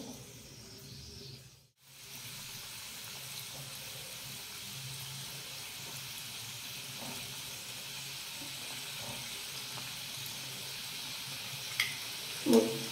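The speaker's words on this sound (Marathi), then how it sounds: "आता गॅस आपल्याला मीडियम करून घ्यायचा आहे आणि सगळे मोदक आपल्याला मीडियम गॅसवर तळायला घ्यायचे" Modaks deep-frying in hot oil on a gas stove at medium flame give a steady, quiet hiss and sizzle, broken by a short gap and a few faint clicks near the end.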